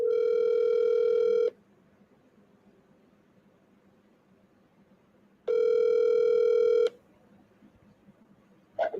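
An outgoing phone call rings and goes unanswered: two long, loud electronic ring tones separated by about four seconds of quiet line hiss, followed by a brief click or tone at the very end.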